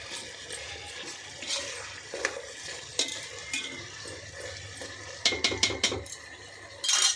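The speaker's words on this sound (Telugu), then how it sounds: "చక్కగా నీట్గా తిప్పుకొని" A spoon stirs food in a cooking pot, repeated scraping and clinking of metal against the pot over a low sizzle, with a quick flurry of knocks near the end.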